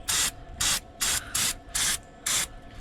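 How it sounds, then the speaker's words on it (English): Brake cleaner sprayed onto 2003 GMC axle parts in a workshop, six short, sharp aerosol bursts in quick even succession, close and loud, with no talking. "fancy dancy brake cleaner"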